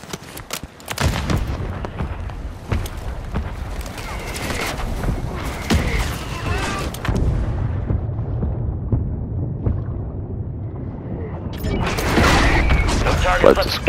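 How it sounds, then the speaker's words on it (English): A friendly mortar strike lands in Call of Duty: repeated heavy, booming explosions roll over a continuous bed of gunfire and rumbling battle noise, loud and dense for the whole stretch. "Friendly mortar strike inbound."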